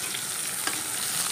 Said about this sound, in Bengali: এখানে হচ্ছে পটল ভাজা।